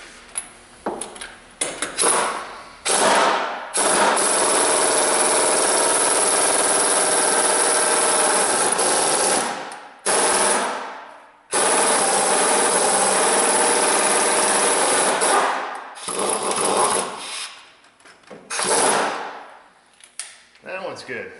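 A power tool loosens bolts on a Subaru EJ253 engine during head gasket replacement, running in long loud whirring and rattling bursts with brief pauses between them.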